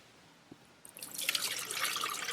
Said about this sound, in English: And then you dump your sudsy rinse water off into the bleach bucket.